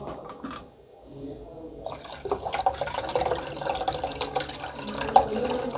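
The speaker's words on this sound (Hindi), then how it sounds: "अब इसमें हमने 2 से 3 गिलास पानी और शामिल करना है।" Water poured from a glass into thick homemade sardai juice: a quiet start, then splashing, trickling liquid building up close by and continuing to the end.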